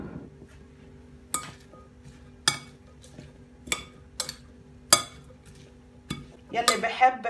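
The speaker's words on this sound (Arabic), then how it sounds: "أول شي بخلط الخضرة" Chopped vegetables for tacos (lettuce, tomato, cucumber, green onion, sweet pepper) are tossed together in a bowl, giving a handful of sharp clinks and clatters of utensils against the dish, spaced irregularly, ending in a busier rustling burst.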